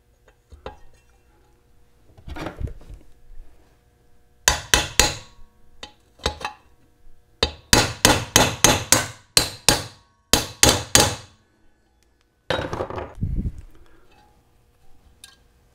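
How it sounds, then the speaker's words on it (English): A hammer strikes a cup driver to seat a bearing race in a Toyota W58 five-speed transmission, sounding as sharp metallic blows that come singly at first and then as a quick run of close, evenly spaced hits. "I'm using one of these little cup"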